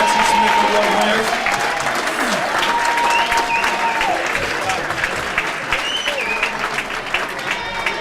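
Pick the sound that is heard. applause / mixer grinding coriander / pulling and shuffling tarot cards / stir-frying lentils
applause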